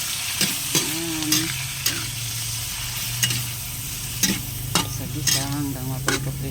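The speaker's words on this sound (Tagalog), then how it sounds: "Isa-gisa hanggang maprito-prito ng konti para masarap-sarap." Chicken sizzles and fries in a pan with steady background crackle while a utensil scrapes and stirs in repeated strokes, close and fairly loud, with a voice briefly audible.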